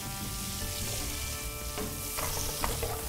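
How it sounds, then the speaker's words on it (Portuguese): Yellow and red bell peppers frying in rendered bacon fat, a continuous close sizzle and crackle with occasional stirring scrapes, no voices. "Olha, tá fritando. Tava o bacon aí."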